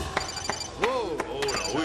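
A mobile phone rings at a formal dinner party, a bright warbling electronic ringtone with sweeping tones, close and moderately loud, over background chatter and clinks.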